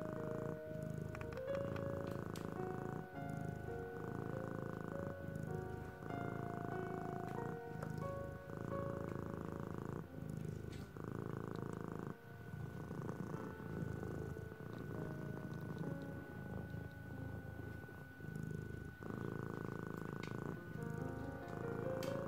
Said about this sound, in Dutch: Ik hoop dat jullie haar horen spinnen.